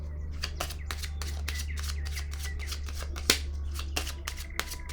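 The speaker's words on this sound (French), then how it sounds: "Je vais déposer une carte sur le retrait affectif" A tarot card is handled and laid down in a quiet room, making a run of crisp, close flicks and slaps, with one sharper snap in the middle, over a steady low hum.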